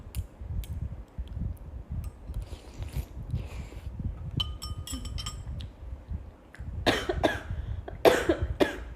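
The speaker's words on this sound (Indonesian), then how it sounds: "Kalian doain aku batuk ya" Several muffled coughs from someone who choked on soup broth sound up close amid soft clinks and handling noises, followed by a couple of sharper coughs near the end.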